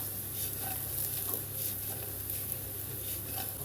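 Potatoes, shallots and garlic sizzle in olive oil and butter in a pan, a steady close crackling fry with faint stirring, no voices.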